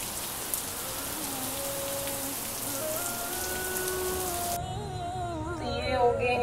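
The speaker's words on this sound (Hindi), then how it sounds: "यहाँ पे ज़बरदस्त बारिश हो रही है" Heavy rain falls steadily outside, a dense continuous hiss with spattering drops on surfaces and no voices.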